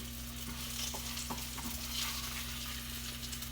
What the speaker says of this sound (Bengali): ফ্রেন্ডস, আমার ইলিশ ভাজা অলমোস্ট শেষ,